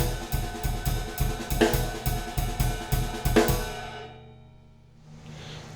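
Jazz drum kit laying down a basic groove at tempo, with steady kick and ride pattern and two louder accented hits, close and alone, stopping abruptly near the end.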